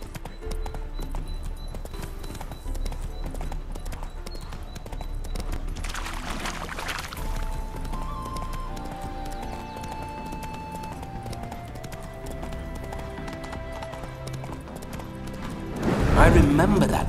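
Horse hooves in the video game The Witcher 3: Wild Hunt clop steadily at a galloping pace throughout, with a louder burst of noise near the end.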